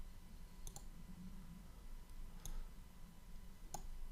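Computer mouse clicking at a desk, three sharp separate clicks spaced across a quiet room background with low hum, no talking.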